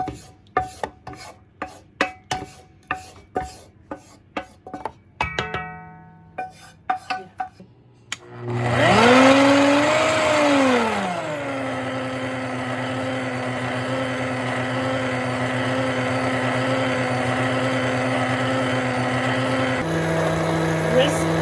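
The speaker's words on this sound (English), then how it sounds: "I'm going to add the chocolate and the butter, and then I'm going to whisk it again" Chocolate and butter are whisked into brownie batter for salted caramel brownies: quick rhythmic scraping strokes in a bowl, then a loud, steady mechanical whir that rises, settles and carries on to the end.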